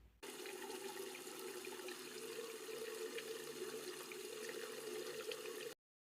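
Water poured into a pan while cooking vegetarian chilli cauliflower, a steady soft splashing and sizzle lasting about five seconds, fairly quiet and alone, then cut off abruptly.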